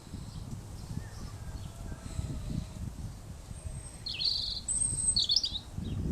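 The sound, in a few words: robin singing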